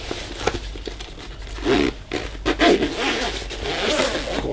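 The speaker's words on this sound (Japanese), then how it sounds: "チャックで締めるという風になってます" A zipper being pulled closed on the thickly padded gig bag of a Mahalo MEB1 solid-body electric ukulele bass, a close, raspy run of several strokes with some fabric crinkling.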